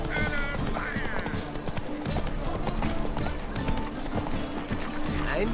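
Hooves of Roach, a horse in the video game Witcher 3, clip-clop steadily at a trot under a dense mix of game music and ambience, with a neigh breaking through near the start.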